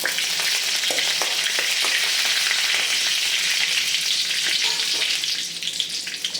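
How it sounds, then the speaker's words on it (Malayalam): Curry leaves frying in hot oil for a pulissery curry, a loud continuous crackling sizzle heard up close, with occasional scraping strokes as the pan is briefly stirred. "ഇനി കറിവേപ്പില ഇട്ട് കൊടുക്കാം. ഇത് ചെറുതായിട്ടൊന്ന് ഇളക്കി കൊടുക്കണം."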